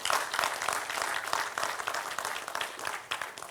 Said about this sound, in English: So I think it is appropriate that all of us give a big applaud to